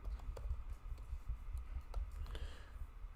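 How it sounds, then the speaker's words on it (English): Quiet, irregular tapping of computer keys, a run of light clicks at an uneven pace against a low background hum. "I actually have to type it out."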